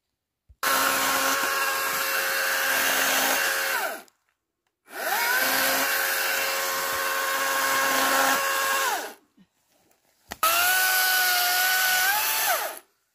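A Brücke cordless battery chainsaw cuts through branches in three long, loud bursts, each revving up to a steady whine that drops as it slows, with short pauses between cuts and no talking.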